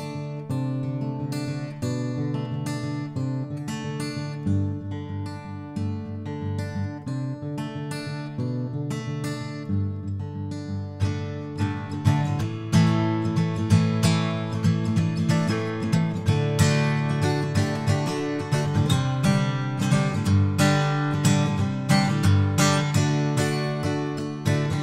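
Acoustic guitar played through an emulated 4006 microphone on an Antelope Audio Verge, strummed and picked continuously for about 25 seconds with bright chords and steady rhythm, close and full, no voices.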